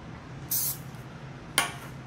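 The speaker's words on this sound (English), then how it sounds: "It was a spritz. It wasn't a spray." Two quick spritzes from a spray bottle onto resin during ring turning, the first a short hissing burst and the second a sharper, briefer one a second later, close by over a quiet room.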